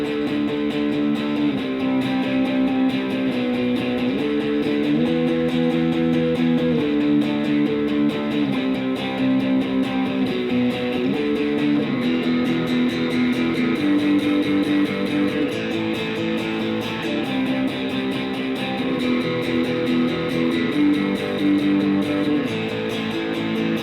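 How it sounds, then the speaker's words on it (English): Distorted electric guitar plays a power chord progression, one slide shape repeated twice and then a second shape repeated twice, with sustained chords shifting steadily and loudly for about twenty-four seconds, no talking. "Sounds like this, the whole progression."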